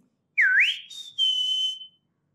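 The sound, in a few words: human whistling imitating a bird's sharp call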